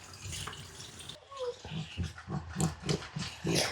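Water rinses a long-haired Coton de Tulear dog during a bath, a steady splashing spray from a tap with wet pulses and brief squeaks, close and moderately loud.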